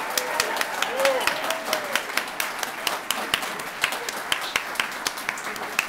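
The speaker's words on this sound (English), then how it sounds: "That was a pretty good applause." Audience applause at an annual meeting awards ceremony for a bay conservation group, a steady patter of many hands clapping with sharper individual claps and a brief cheer, filling the whole stretch.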